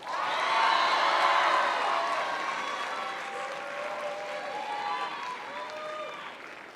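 Applause and cheering for the 2018–2019 graduates of Fairmont Preparatory Academy at a commencement ceremony, a broad wash of clapping and whoops that swells early, then slowly fades while a few voices carry over it.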